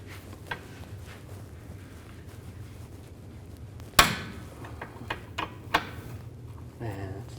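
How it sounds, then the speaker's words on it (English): A 17mm wrench breaks loose the tie rod jam nut on a 2013-18 Nissan Sentra front suspension, giving one sharp metallic crack midway, followed by a few lighter clicks and taps over a steady low hum. "I'm going to loosen up this jam nut."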